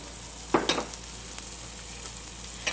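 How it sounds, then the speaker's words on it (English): Onions sauteing in butter in a hot ceramic skillet give a steady, soft sizzle throughout, broken by a few brief scraping or stirring clatters near the start and one more near the end. "So I'm going to saute my onions."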